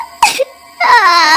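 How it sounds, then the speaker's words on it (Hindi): A woman cries as a sound effect: a loud, close sob breaks out, falls quiet for a moment, then turns into a sustained, wavering wail. "किसी औरत के रोने की आवाज आती है"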